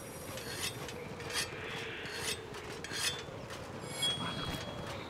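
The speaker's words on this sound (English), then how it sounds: "Whetstone time." A weapon is sharpened with a whetstone in Monster Hunter Rise, a repeated raspy grinding stroke of stone on blade, about five even rubs in a row at moderate volume with no talk.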